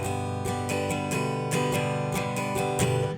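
An acoustic guitar strummed gently and softly, its strokes lighter and less percussive so the chords ring out more fully, heard close and alone in an even rhythm.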